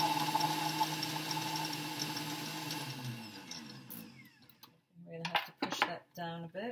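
A kitchen blender whirs loudly and steadily while mixing vegan chocolate mousse, then cuts out, leaving short stop-start bursts as the jug is shaken down and restarted.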